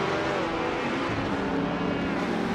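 A 1960s Porsche 356C race car in a racing video game drones steadily at close range, its engine holding a constant buzzing, harmonic tone throughout.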